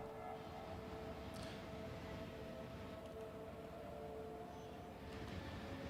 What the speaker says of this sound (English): Alright, train's coming over.